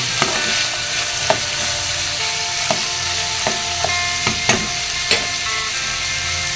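Sautéing in a pan while cooking miki noodle soup: a steady, bright sizzle throughout, punctuated by about a dozen short clacks and scrapes of a utensil stirring against the pan, with no voices.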